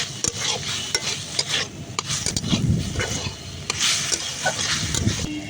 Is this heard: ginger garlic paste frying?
yes